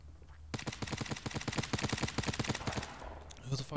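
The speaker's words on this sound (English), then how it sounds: "Who the fuck are you shooting at?" Rapid automatic gunfire from a Fortnite match, a steady burst of about two dozen close, loud shots lasting a few seconds, with a voice briefly heard around it.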